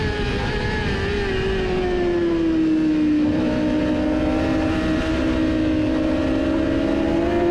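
A Ducati V4 racing motorcycle passes a KTM on a track, its engine a loud, steady high-revving drone with a falling then rising pitch, heard up close without talk.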